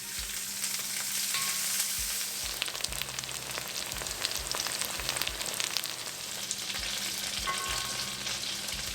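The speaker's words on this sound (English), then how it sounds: "We'll saute the bhindi until they start to shrink up a little bit and they start to get brown" Okra (bhindi) sautéing in a kadai, a continuous bright sizzle and crackle with occasional scraping stir strokes, close and steady throughout with no voices.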